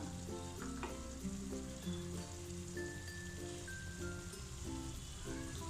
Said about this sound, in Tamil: இப்போ கறியும் ஓரளவுக்கு நல்லா வதங்கிருச்சு